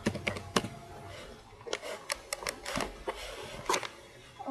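Keys clatter on a computer keyboard during a tutorial on drawing a class diagram in Star UML 5.0, with quick irregular taps and short bursts close up, fairly quiet and without talk.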